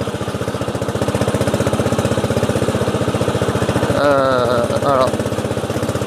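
Racing lawn tractor engine running steadily up close, a fast, even mechanical chatter throughout with a brief rise in pitch near the end, and someone speaking briefly over it.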